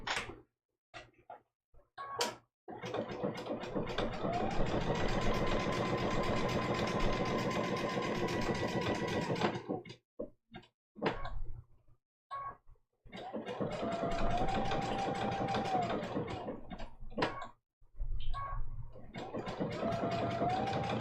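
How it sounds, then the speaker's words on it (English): A sewing machine stitches appliqué onto a small quilt block in several bursts of steady, rapid mechanical whirring, separated by pauses with soft handling clicks, close and moderately loud. "I lower my needle in the background fabric right next to the applique"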